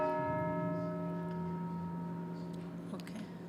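Church bells ring steadily with long sustained overlapping tones, heard indoors during a plan commission meeting, fairly faint and continuous throughout with no talk over them.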